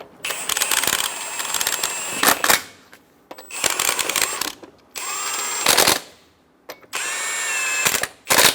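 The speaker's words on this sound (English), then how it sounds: "Snug the lug nuts down." Ratchet wrench snugging lug nuts onto the wheel of a 2014-2018 Chevrolet Silverado 1500, several loud close bursts of rapid metallic clicking separated by brief pauses, with no talking.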